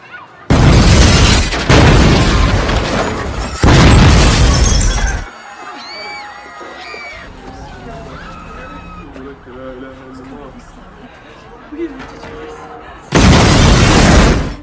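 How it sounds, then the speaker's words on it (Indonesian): Several loud, broadband film bomb blasts with a shattering, crashing edge erupt in bursts, separated by a quieter stretch of rumbling debris and crackling, then another heavy blast. "Akibat ledakan bom tersebut, banyak warga Amerika tewas."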